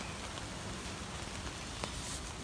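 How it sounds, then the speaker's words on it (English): Wind and rain around a hammock camp on a stormy morning, a faint steady hiss of rainfall with soft rustling and the occasional tap of a drop, quiet and even throughout. "As you can hear, it's windy and raining."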